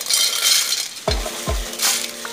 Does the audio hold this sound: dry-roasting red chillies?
yes